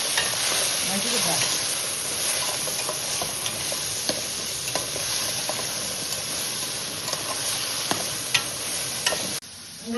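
Potatoes and okra sizzle steadily in hot oil in a pan, with a constant frying hiss and scattered scraping ticks of a spoon stirring, then a brief drop near the end.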